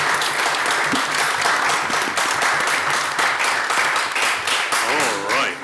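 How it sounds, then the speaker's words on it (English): A crowd at a county scholastic bowl competition claps steadily and loudly for the teams, a dense, sustained round of applause. "let's have a round of applause just to kick off and urge our teams on"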